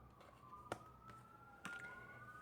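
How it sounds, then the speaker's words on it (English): A faint siren wailing in the distance, its tone gliding slowly, with a couple of sharp clicks or knocks nearby. "You hear the sirens?"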